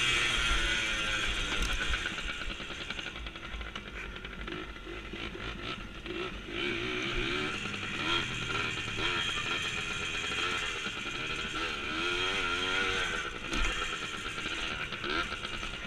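A dirt bike engine drones steadily and loudly throughout as the rider takes a small jump, the motor bogging and revving with shifting pitch, with faint clatter and wind in the background.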